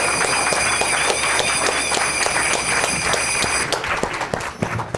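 An audience at a medical school simulation competition bursts into loud, dense applause and clapping that holds steady, then thins out and fades near the end, with a faint high electronic tone underneath.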